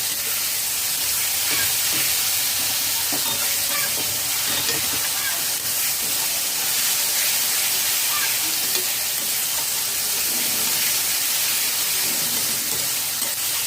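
Onions sauté in oil over a low to medium flame with a steady, dense sizzle and hiss that holds throughout, along with faint stirring and a voice in the background.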